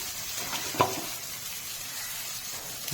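Eggplant bharta with chopped coriander leaves being stirred in a hot pan, a soft continuous sizzle with one sharp clink of the spoon partway through.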